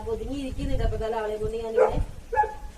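A dog at home during a pepper harvest gives a short bark or two near the end, brief and partly buried under steady close-up talk.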